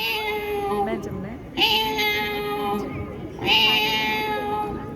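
A man imitates a cat with a voice mimicry of three drawn-out, nasal meows. Each meow sounds close and clear, and they come with short gaps between them.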